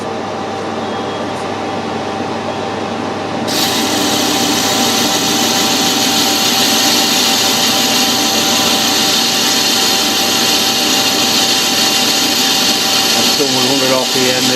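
A metal lathe parting off a part on a restored Stuart steam engine job runs as a steady, loud machining whir with a broadband hiss that swells after a few seconds and holds throughout, with talk over it.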